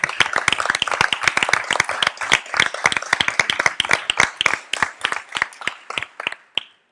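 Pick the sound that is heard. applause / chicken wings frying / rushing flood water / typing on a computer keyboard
applause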